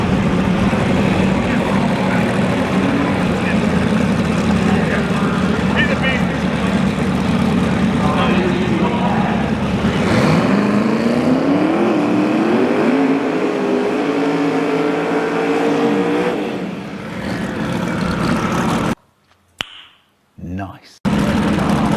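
Small tire class cars drag racing at Street Car Takeover Charlotte: a loud, sustained engine roar climbs steadily in pitch as a car pulls away, then cuts off abruptly into near silence with a few brief bursts at the end.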